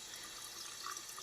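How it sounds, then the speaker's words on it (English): Cold water runs steadily from a hotel room tap, a constant close hiss of flowing water with no voices. "And this is the cold water."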